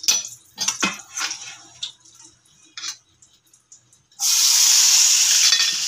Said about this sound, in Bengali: চাকা চাকা পেঁয়াজগুলো যেগুলো একটু বড়ো সাইজের কেটে রেখেছি ওগুলো দিয়ে দিলাম।